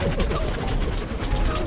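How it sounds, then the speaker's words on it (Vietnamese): Rapid machine-gun fire bursts in a dense, rattling volley in Plants vs Zombies 2 3D, on a Caribbean pirate stage, loud and continuous through the short moment. "Ui rồi súng máy."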